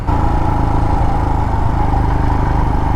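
A motorcycle engine roars steadily at full throttle in second gear, loud and close, a continuous droning growl with no letup, on a mountain ride in Tibet.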